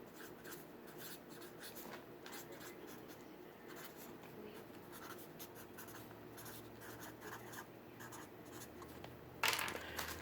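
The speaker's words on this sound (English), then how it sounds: "I'm going to write it." A pen scratches across paper in a quiet room, faint close-up strokes in irregular bursts, ending with a brief louder rustle.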